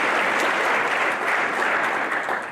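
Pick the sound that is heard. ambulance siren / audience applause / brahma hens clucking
audience applause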